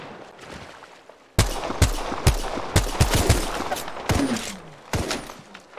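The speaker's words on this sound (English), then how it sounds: "I'm just gonna start shooting a lot of these guys" Rapid bursts of gunfire from an Apex Legends match, sharp loud shots in irregular clusters starting abruptly, with brief overlapping cracks and a faint voice beneath.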